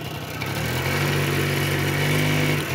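Learner driver's car engine idling, then rising into a steady hum as the accelerator is pressed and the car moves off, close and continuous, no speech.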